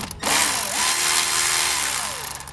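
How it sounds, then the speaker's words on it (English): A power driver on its loosening setting whirs steadily as it backs out a hose clamp in a Supra's engine bay, close and loud for about two seconds with a slight pitch dip, then sputtering off. "I'm gonna take my driver, it's still on the loosening setting"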